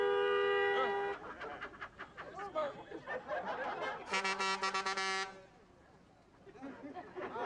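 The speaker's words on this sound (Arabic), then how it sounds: "قالك مين عم بيزمر؟" A car horn sounds in traffic at a red light, with a sustained honk of about a second that rises above people arguing nearby and is followed by more talking.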